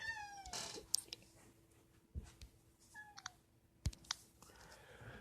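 A pet cat meows several times in the background, a few faint, rising mews scattered over a low, steady room hum, with occasional soft clicks and no talking.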